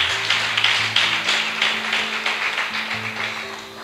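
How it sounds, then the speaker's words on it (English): Congregation at a church service clapping for the team, a dense and steady wash of many hands that holds for several seconds over a low sustained hum. "let's clap for the team"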